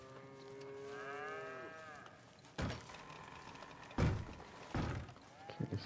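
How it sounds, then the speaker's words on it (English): Cattle low in Red Dead Redemption 2 on a ranch at Beecher's Hope, a long drawn-out moo followed by a few dull thumps and clatters nearby. "at least one cow"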